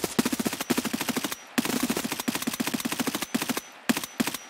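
Rapid automatic gunfire in Escape From Tarkov, loud, close bursts of rounds broken by short pauses, repeated across several volleys.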